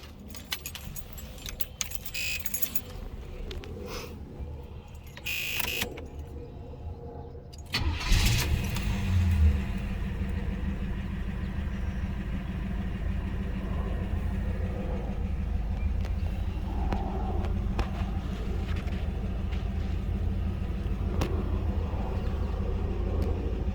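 A 1980 Chevy Malibu is started after keys jangle in the ignition; the engine cranks and catches, then settles into a steady, close-up low idle that rumbles on without a break.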